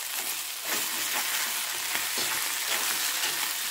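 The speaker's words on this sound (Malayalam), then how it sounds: "ഇതിനകത്ത് കിടന്ന് നന്നായിട്ട് ഫ്രൈ ആവട്ടെ" Ivy gourd (kovakka) frying with rasam powder in a pan gives a steady loud sizzle with periodic stirring scrapes, close by and without voices.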